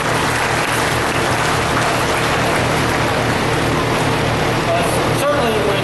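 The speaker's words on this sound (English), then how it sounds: "One more round of applause for him." Crowd applause for Wade Franklin, the judge from Lubbock, Texas, at a 2012 market lamb champion drive: a dense, steady roar of clapping that holds at full strength for several seconds.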